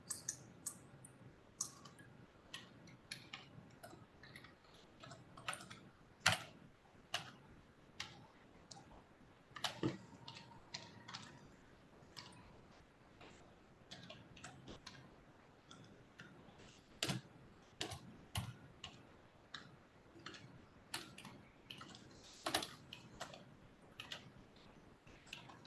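Rapid irregular clicks of computer keyboard typing run throughout, close and fairly quiet, with bursts of sharper keystrokes and no talking.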